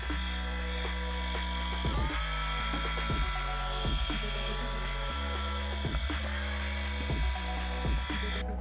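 Motor of a homemade Arduino-driven automatic tennis ball launcher running nearby, a loud steady electric whir that drops and restarts in regular cycles, with clicks at each change and a faint voice now and then.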